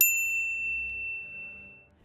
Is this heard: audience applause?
no